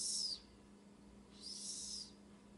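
An American robin near its nest gives two short, high, bright calls about a second apart, faint against a quiet background.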